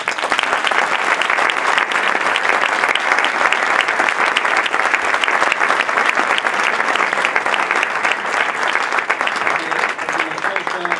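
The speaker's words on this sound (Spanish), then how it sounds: "aproveito para pedir un aplauso para Miguel Anxo Mouriño" Sustained, dense applause from a gathered audience honouring Miguel Anxo Mouriño at a festive performance by the traditional choir Cantares do Brión, steady and loud throughout with no pauses.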